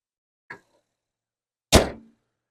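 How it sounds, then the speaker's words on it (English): A truck hood drops shut: a light metallic tap first, then about a second later a single loud, close slam that rings briefly and fades. "let's close the hood."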